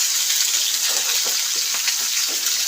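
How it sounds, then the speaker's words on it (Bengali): Broad beans and eggplant frying in a pan for a green tomato chochri, a steady, close hiss of sizzling oil with faint stirring scrapes, no voices. "তো এর সাথে আমি শিম আর বেগুনটা দিয়ে দিলাম। তো এবার একটুখানি এটাকে ভেজে নেব।"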